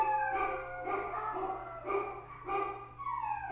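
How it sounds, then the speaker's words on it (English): Dogs howl in long wavering cries that overlap and swell in a few rounds, loud and near, with no talking over them. "Oh, we're howling now. What are you howling at?"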